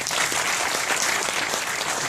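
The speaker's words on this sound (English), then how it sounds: "Give him applause." An audience at a Rotary club event applauds, a dense, even burst of clapping from many hands that stays loud and steady throughout.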